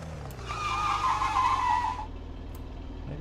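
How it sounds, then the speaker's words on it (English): A car skids across grass in the video game Unturned, a loud sustained tire screech of about a second and a half over a steady engine hum, then fading back to the idling motor. "Maybe you shouldn't be skidding on grass"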